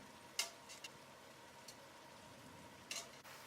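Cooked Christmas pasta with venison and pork being stirred in a pot, with a few sharp scrapes and clinks of a utensil over a faint background sizzle, quiet and without speech.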